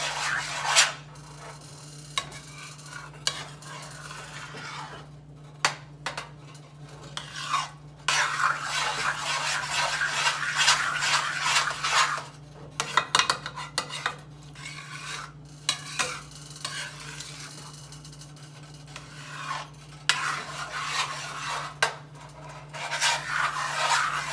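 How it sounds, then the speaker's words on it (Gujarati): Puran lentil filling for puran poli being stirred constantly in a pan over medium heat, a continuous close scraping and rubbing with uneven strokes and brief pauses, fairly quiet with a low steady hum underneath and no speech. "મીડિયમ તાપે જ થવા દેવાનું અને હલાવતું રહેવું પડે સતત"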